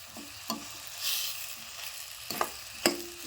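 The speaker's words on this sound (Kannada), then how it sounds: "ಎಣ್ಣೆಗ ಉಳ್ಳಾಗಡ್ಡಿ ಟೊಮೆಟೊ ಹಣ್ಣಿನ ಜೊತೆ ರೀತಿ ಫ್ರೈ ಆಗಬೇಕು" Onion and tomato fry in oil in a pan as a spatula stirs, with a faint sizzle under a few distinct scraping strokes and light clinks spaced across the moment.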